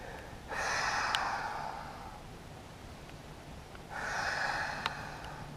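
Two long, slow breaths during a yoga forward stretch, each a soft airy exhale lasting over a second, close and quiet with a pause between them.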